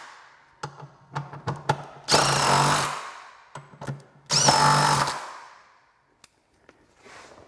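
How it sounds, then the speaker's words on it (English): A power tool with 15mm and 18mm sockets drives up the center nuts and outer bolt during an MT-82 transmission install on a 2011–2014 Mustang. Two loud, close bursts of whirring are broken up by sharp clicks and metallic knocks. "with the 15mm socket, draw up the two center nuts, then switch to the 18mm socket and draw up the outer bolt"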